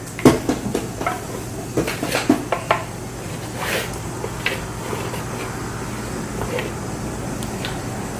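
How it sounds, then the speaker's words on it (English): A child stirs apple crisp mixture in a bowl, with a few close clinks and scrapes of a spoon early on, then quieter handling over a steady low hum. "Nolan, why don't you give it one more stir?"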